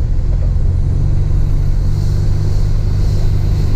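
A car engine runs with a loud, steady low rumble close by, holding an even level throughout without distinct rises or release bursts.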